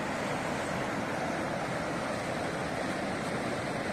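The Tirthan river flows close by in a steady, dense rush of water, constant and loud, with no talk.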